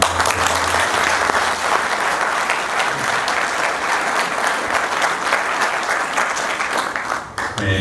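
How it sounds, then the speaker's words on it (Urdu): An audience at an annual get-together gives loud, sustained applause for the performers, dense clapping from many hands that fades slightly near the end, with a faint voice briefly audible beneath it. "ان سب کے لیے بھرپور تالیاں"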